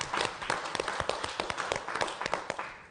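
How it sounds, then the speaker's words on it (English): Audience applause at the Mackinac Policy Conference, a steady run of scattered hand claps at moderate distance, fairly soft and continuous for a few seconds. "Let's give ourselves a round of applause."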